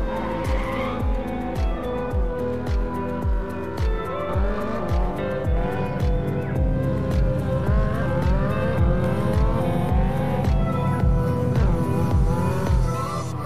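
Simulated car engine revving and driving in the Extreme Car Driving Simulator game, with repeated tire squeals and skids over a steady loud engine drone throughout.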